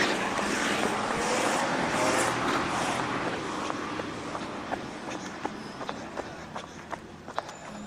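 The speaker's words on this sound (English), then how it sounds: "So to the sound of the recycle truck," A recycling truck working a residential street on collection day, a broad rumbling engine drone heard from a runner's position with a series of sharp clanks and bangs from the bins near the end.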